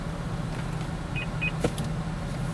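Power seat motor in an Acura TL Type S gliding to its memory position, a steady whir filling the car interior, with two short electronic chimes partway through and no talking.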